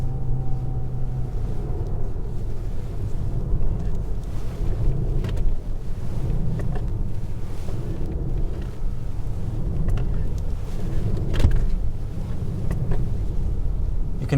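An armored 2022 Mercedes S680 Guard V12 accelerates to about 50 km/h, its muffled engine and steady tire roar droning inside the cabin with some wind noise.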